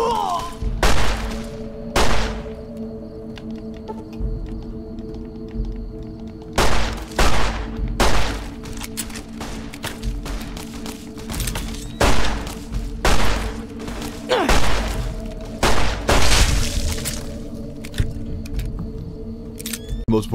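Repeated bursts of gunfire from a Blade Runner-inspired pistol in the video game Fallout New Vegas, loud sharp shots in irregular clusters over a steady hum of game music and ambience.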